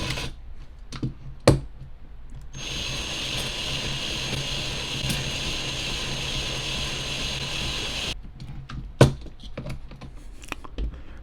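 Electric drill spinning a ratchet extender, a steady whirring run of about six seconds framed by scattered clicks and knocks of handling before and after.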